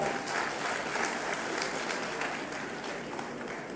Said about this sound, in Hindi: जरा जोर से ताली तो बजाओ